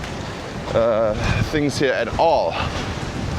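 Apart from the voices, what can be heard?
strong wind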